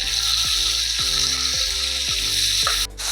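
Continuous crackling sizzle of chopped grapes frying in hot oil in a kadai, close and steady throughout, with soft regular knocks and a brief pause near the end.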